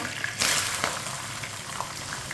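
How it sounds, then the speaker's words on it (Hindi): A chopped onion frying in oil with roasted cumin seeds in a pan for spinach and egg curry, giving a steady close sizzle with a sharper burst near the start and a few light stirring clinks. "प्याज को हल्का सा ब्राउन कर लेंगे"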